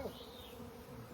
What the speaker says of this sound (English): That's a swarm of bees